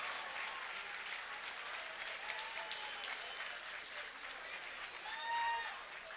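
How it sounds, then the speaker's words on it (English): A crowd at a mixed martial arts championship bout applauds two fighters, sustained clapping heard from some distance with a few faint whistles and cheers rising near the end. "ladies and gentlemen, a round of applause for 2 great fighters and one hell of a championship bout"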